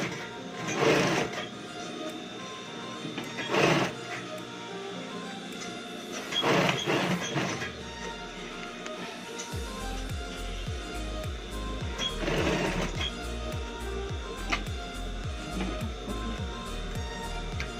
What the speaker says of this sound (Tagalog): Diretso na po ulit ang pananahi ng sling bag.